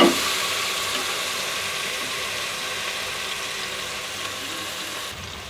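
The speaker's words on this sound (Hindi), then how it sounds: "इसमें इसको प्याज और लहसुन अदरक के साथ अच्छी तरह से फ्राई करेंगे।" Beef trotters frying with onion, garlic and ginger in a pot, a steady loud hiss and sizzle that runs without pause and fades slightly toward the end.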